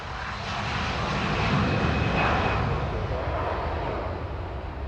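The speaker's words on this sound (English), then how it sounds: "Virgin Atlantic plane now leaving." Virgin Atlantic airliner taking off from Grantley Adams International Airport in Barbados, a broad steady jet engine roar that swells and holds loud throughout, heard from nearby with no talk.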